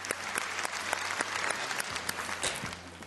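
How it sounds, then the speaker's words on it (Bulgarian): A studio audience on a Bulgarian game show claps for the third contestant, a steady burst of close, dense applause lasting a few seconds. "Аплодисменти за третия играч в този епизод."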